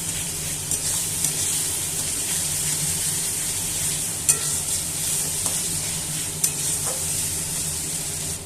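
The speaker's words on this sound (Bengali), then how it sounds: "আদা রসুনটা দিয়ে আমি এবার একটু নাড়তে থাকবো, আদার কাঁচা গন্ধটা চলে যাওয়া পর্যন্ত নাড়তে থাকবো" Ginger-garlic paste frying in a pan, a continuous close sizzle with repeated stirring scrapes and a few sharp clinks of the spoon against the pan.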